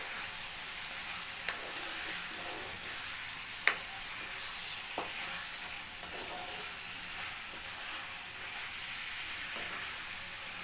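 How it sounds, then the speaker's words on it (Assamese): A spice mixture fries and sizzles steadily in oil as it is stirred, with a constant hiss broken by a few sharp scrapes and knocks of the spoon against the pan. "তেল ওলোৱালৈকে ভাজি ল'ম"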